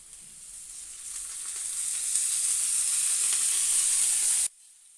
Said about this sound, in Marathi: आता आपण कांदा खोबरं भाजून घेणार आहोत